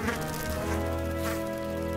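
A cartoon bee buzzes steadily and loudly for about two seconds, a continuous droning hum with no talk over it.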